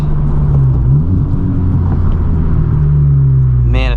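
Honda Civic Type R with a boost leak driving on the road, its engine a steady low drone with faint whooshing and a brief higher whine near the end; a voice seems to talk over the engine hum.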